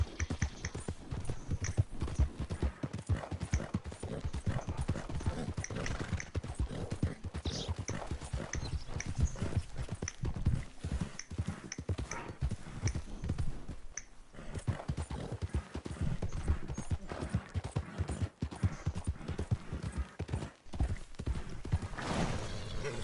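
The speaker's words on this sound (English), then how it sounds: "I just drifted my horse right now" Horse hooves clip-clop steadily in Red Dead Redemption 2, a continuous brisk rhythm of loud, close footfalls running throughout, with an occasional whinny and game ambience underneath.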